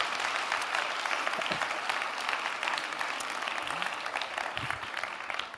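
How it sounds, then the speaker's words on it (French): A conference audience at a French-language event gives sustained applause, a dense, even patter of many hands clapping that continues without a break from start to finish. "On peut vous applaudir."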